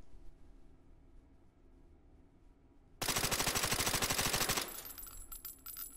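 Suppressed AAC Honey Badger rifle in 9x39mm firing a rapid burst of about fifteen to twenty shots, loud and close, after a quiet lead-in, followed by lingering ringing echoes.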